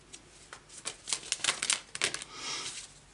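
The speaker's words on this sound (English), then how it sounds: "these cards are so hard to shuffle right now" Tarot cards are shuffled nearby in a quick run of papery riffles and soft slaps that builds in the middle and then eases into a brief rustle, with no one talking.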